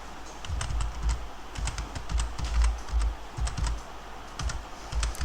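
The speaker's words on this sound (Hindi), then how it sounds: "तो मैंने यहाँ पे अपनी एक ईमेल आईडी लिख दी।" Rapid clicking keystrokes on a computer keyboard while an email ID is typed during an O Level practical exam demo, close and crisp in irregular bursts with no talk.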